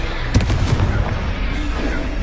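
Confringo spell blast in the Hogwarts Legacy video game, a loud explosive boom that bursts out early and then rumbles on in a dense, sustained roar of effects.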